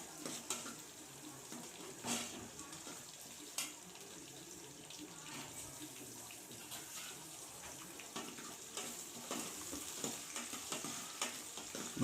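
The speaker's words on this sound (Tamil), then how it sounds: "வெங்காயம் தக்காளி பார்த்திங்கன்னா நல்லா பொன்னிறமாக வதங்குற வரைக்கும் கொஞ்சம் வெயிட் பண்ணி தாங்க" Onions and tomatoes sauté in oil for a country chicken curry, a faint, steady sizzle with recurring stirring scrapes and clicks, close but quiet, without speech.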